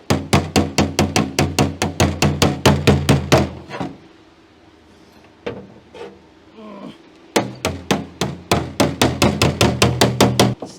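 A hammer held behind thin van door sheet metal as a makeshift dolly while another hammer strikes it, giving a loud, fast, even run of metallic taps, a pause with softer handling noise, then a second steady burst of blows.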